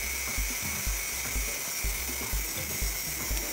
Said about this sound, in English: I took a cutting grinder and cut the back.